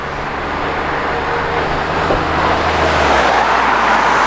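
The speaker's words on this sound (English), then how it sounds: "hopefully I can capture taking a picture of a bus going past on camera" A bus drives past on a road at night, a steady loud rumble of engine and tyre noise that swells gradually toward the end, with broadband traffic roar throughout and no talk.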